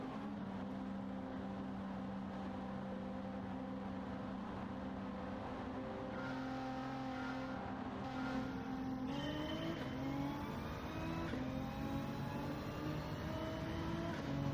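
A Mitsubishi race car in Gran Turismo 7 drones steadily at high revs, its engine tone shifting and climbing through gear changes, loud and continuous with no talk.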